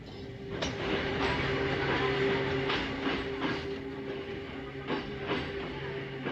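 A cartoon mountain train running along its track, a steady rumbling roll with rhythmic clickety-clack beats and faint tonal hum, moderately loud and continuous, with no talking.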